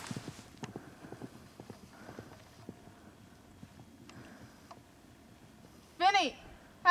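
Horses walk nearby with crisp, irregular hoof clip-clops on a hard surface, mixed with quiet voices and a brief high, wavering call near the end.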